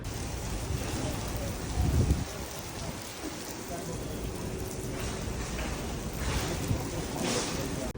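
Steady rain falls outdoors at Flamingo Crossings near Disney, a dense even patter with a brief louder splash, heard alone without talk.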